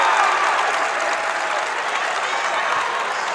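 Chattanooga fans at a college wrestling match against Ohio State break into loud sustained applause and cheering, a dense even roar of clapping that fills the arena without pause.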